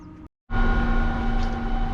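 A boat driven by a 10 kW electric motor runs at about 1750 RPM, a steady mid-pitched electric whine with a low hum beneath it, cutting out briefly before resuming continuously.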